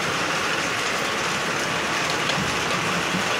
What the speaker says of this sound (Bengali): এই যে শিল পড়ছে